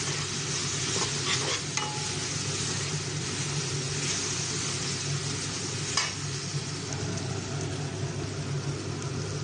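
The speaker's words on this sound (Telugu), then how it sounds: "ముందుగా తయారు చేసుకున్న మసాలా పొడిని వేసుకోవాలి. వేసి బాగా కలుపుకోవాలి." Masala powder being stirred into fried ginger-garlic paste for masala paneer, giving a loud, steady sizzle from the pan with occasional scraping strokes of the spoon throughout, and no talking.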